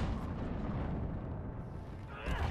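A rogue's Explosion ability in Dragon Age Inquisition sets off a low, rumbling blast that fades gradually, followed by a quick sharper burst at the end, all fairly faint.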